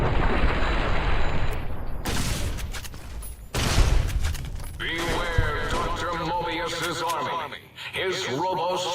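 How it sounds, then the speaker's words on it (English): Laser rifle fire and blasts ring out in Fallout: New Vegas during the Old World Blues DLC at the Big MT, with loud bursts and booms over game effects and a voice speaking. "Me with this big ass laser rifle that turns enemies into freaking grenades."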